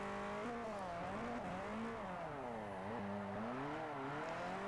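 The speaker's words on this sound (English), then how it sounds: "you can hear the immediate difference in the exhaust note. It's a lot raspier, it's a lot higher pitched." In the racing game Forza Motorsport 4, a light 2,400-pound race car's exhaust revs raspy and high-pitched, its engine note rising and falling continuously with gear shifts and throttle during drifting, heard alone without talk.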